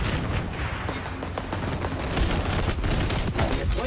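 Rapid gunfire fills a gunfight in the shooter video game XDefiant, with dense overlapping automatic bursts and shots, loud and continuous for the whole stretch.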